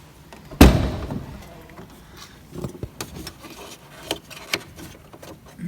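A Scania 4 Series truck cab door slams shut once with a solid thud, followed by faint clicks and small knocks in a quiet space.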